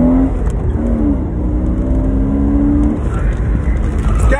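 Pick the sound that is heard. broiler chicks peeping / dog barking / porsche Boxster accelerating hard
porsche Boxster accelerating hard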